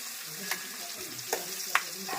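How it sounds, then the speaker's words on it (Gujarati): Ivy gourd and chilli sambharo is tempered in hot oil, giving a continuous sizzle with a few sharper spits and scrapes as it is stirred. "સંભારો વઘારવાનો, ટિંડોરાનો"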